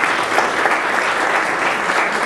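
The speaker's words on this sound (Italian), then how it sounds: "Un applauso a Carlo per poter cantare." Steady, dense applause from an audience at a local gathering in Lunano, Italy, welcoming a singer, filling the whole stretch at an even loud level with no talk.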